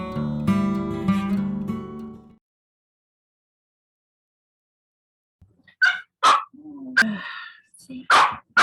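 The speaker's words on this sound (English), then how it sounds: "I can't do it when he's barking." A puppy barks indoors in a burst of repeated, fairly loud barks, then falls silent before people start talking close by.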